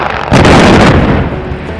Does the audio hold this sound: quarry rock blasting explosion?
yes